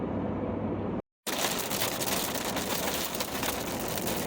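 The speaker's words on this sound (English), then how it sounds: "rain has started" Rain drums steadily on a car driving along a Georgia highway near Macon, a dense, loud hiss of road and water that stops briefly before resuming.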